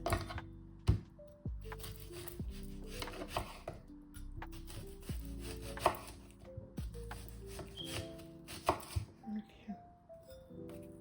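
Knife chopping onions on a cutting board, a steady run of close, sharp taps with uneven rhythm, while a person talks over much of it.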